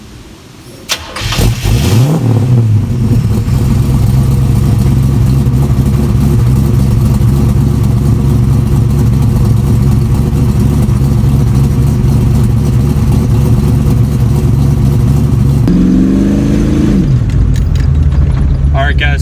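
Custom 1934 Ford Model 40 engine starts with a crank and catch, then holds a loud, steady rumbling drone while driving, with a second rev swell near the end and no talk over it.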